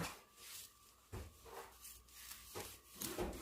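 A knife saws back and forth through a soft kimbap roll, with repeated rasping strokes close by, a few louder bursts as it cuts through.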